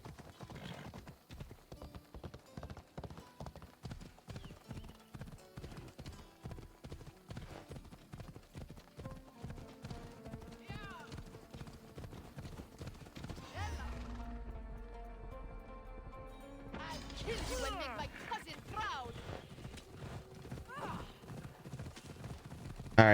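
Horse hooves clip-clop steadily along a road in Assassin's Creed Odyssey, a fast regular rhythm of close, distinct hoofbeats over game music, with a brief whinny and a swell of other sound midway.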